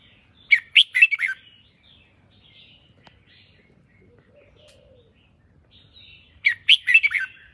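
Several caged songbirds kept indoors in a home, calling in short bursts of bright chirping near the start and end with quiet gaps and a soft low warble between.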